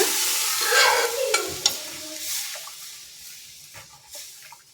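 Cooked tur dal with green chilli and coriander poured into a cumin tempering for lemon rasam, a loud wet splash and sizzle that settles into quieter stirring scrapes.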